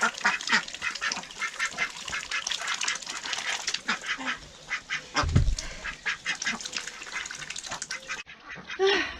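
A flock of ducks quack loudly and busily close by in a spring yard, overlapping honking calls in rapid bursts, with a brief thump partway through.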